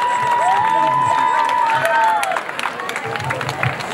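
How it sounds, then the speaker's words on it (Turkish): Crowd at a folk poetry commemoration festival applauding and cheering, a loud sustained wash of clapping with voices and a high whistle or shout, easing off halfway through into scattered claps and murmuring. "Alkışlarla başkanım."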